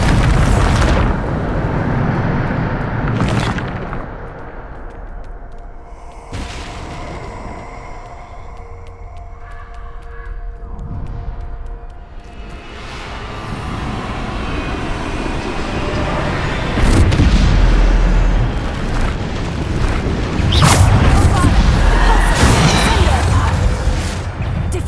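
Bombarda spell explosions in Hogwarts Legacy, several booming blasts spread through the stretch with rumbling decay, louder heavy impacts toward the end, while a player shouts spell names over them.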